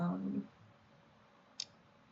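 A single crisp computer mouse click, short and close, lands after a voice briefly speaks at the start, during image editing in Photoshop.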